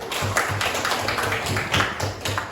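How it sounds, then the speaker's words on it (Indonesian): Applause from a classroom of students for the first group, a steady patter of hand claps lasting a couple of seconds, fairly close and even. "tepuk tangan untuk kelompok 1"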